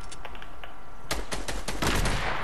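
Rapid bursts of gunfire in the Fortnite video game, several sharp shots in quick succession and growing denser toward the end, loud and close with no talking.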